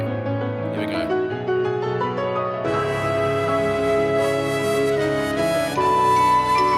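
A character theme from the Final Fantasy XIV Endwalker soundtrack, a sustained, layered melodic piece with swelling instrumental chords and a fuller arrangement entering partway through, moderately loud with no voices over it.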